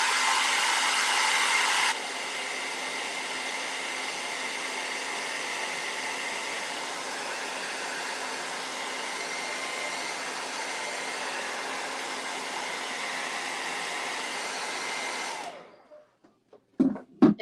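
A hair dryer blows on a painted door hanger to dry the paint, a loud, steady whirring blast that drops slightly in pitch after two seconds, runs on evenly, then shuts off, followed by a few handling knocks.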